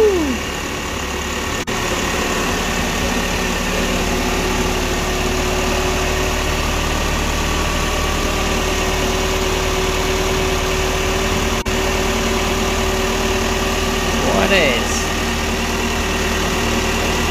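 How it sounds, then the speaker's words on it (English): A Toyota Corolla GT car engine, newly installed, idles steadily, with a constant low rumble and hum that holds unchanged throughout, close by and fairly loud. "The old engine's all in, done and complete, all running, sounding pretty good."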